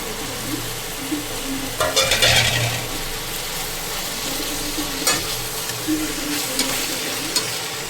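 Capsicum being stirred into a frying spice masala for aloo shimla mirch, loud close sizzling broken by scraping spoon strokes against the pan, with no voices.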